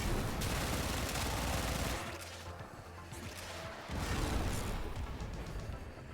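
Rapid gunfire in the video game Warframe, dense bursts of automatic fire and impacts. The fire drops back briefly midway, then resumes at full intensity, loud and continuous.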